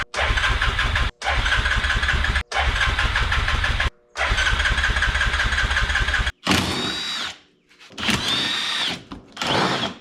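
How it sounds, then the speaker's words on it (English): A choked engine cranks in several loud bursts, each broken by brief pauses, and then briefly sputters near the end. "Let's turn this on start and see if she'll crank."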